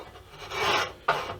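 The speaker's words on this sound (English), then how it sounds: "we are basically done with half the neck, just with this little planer" Two rasping strokes from a small hand planer shaping a wooden guitar neck, close up, the second stroke starting with a sharp bite and fading out, with no voices.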